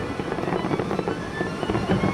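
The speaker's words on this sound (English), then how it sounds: "dramatic, spectacular fireworks display." Distant fireworks rumble and crackle in a continuous muffled wash, with scattered soft pops and booms and no clear voices.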